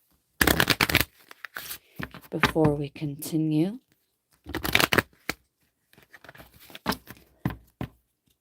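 Tarot cards are shuffled in several quick riffling bursts, loud and close, with someone speaking briefly between them.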